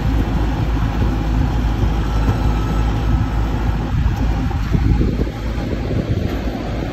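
Yongmeng hydraulic four-wheel-drive potato picker at work in a field, a loud, continuous low engine drone with rumbling machinery and wind buffeting the microphone, steady throughout with no speech.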